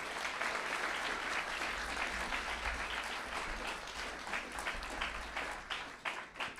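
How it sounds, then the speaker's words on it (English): An audience at the Greater Sydney Schools Cattle Competition gives a sustained round of applause, a dense wash of clapping that stays steady throughout and tapers slightly toward the end. "Can we actually give them a round of applause?"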